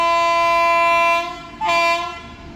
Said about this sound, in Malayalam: ഇവിടെ ഒരു ട്രെയിന് വരുന്നുണ്ട്